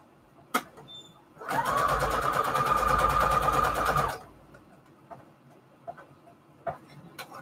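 A sewing machine stitches fabric onto an index card in one continuous run of about three seconds, loud and close, with a few quiet clicks and taps before and after.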